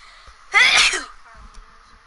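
One sharp, loud human sneeze bursts out mid-clip, followed by quiet background with faint low thumps.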